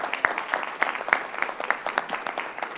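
Audience applause at a Federal Reserve Bank of Atlanta forum, a modest room of people clapping with distinct, uneven claps that stay fairly close and taper off slightly at the end.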